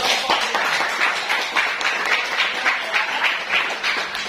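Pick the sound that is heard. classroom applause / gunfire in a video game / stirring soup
classroom applause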